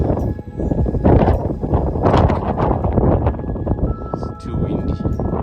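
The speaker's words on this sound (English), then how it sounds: "It's too windy." Strong wind on Table Mountain roars and buffets the microphone in loud, continuous gusts, close and harsh, with muffled voices mixed into the rush.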